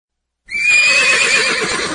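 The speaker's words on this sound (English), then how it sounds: "Horse." A horse gives one loud, close neigh that starts abruptly out of silence and holds as a quavering whinny.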